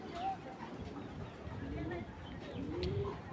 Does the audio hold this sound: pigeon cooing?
yes